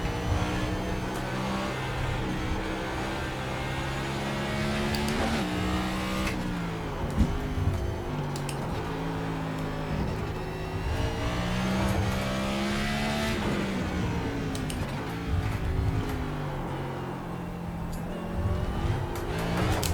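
A race car engine in the iRacing sim revs hard and accelerates through a sequence of turns, upshifting and downshifting repeatedly with rising and falling pitch, loud and continuous, with a hint of tire squeal.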